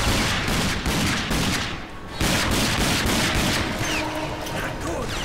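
Rapid gunfire in the shooter game Rage, rattling in dense overlapping bursts, breaking off briefly near the middle and then resuming just as loud to the end.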